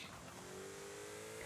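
A car engine in Forza Horizon 5 drones steadily with a thin rising turbo whine or squeak over it, continuous and fairly close.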